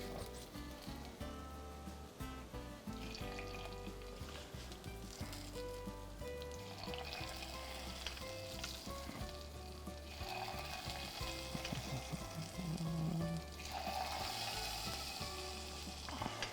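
Aromatics hit a hot pan in a faint, continuous sizzle with stirring scrapes and clatter of utensils, rising slightly toward the end, with no talking.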